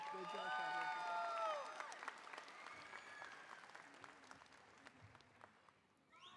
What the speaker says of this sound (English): Let's give Sandra another round of applause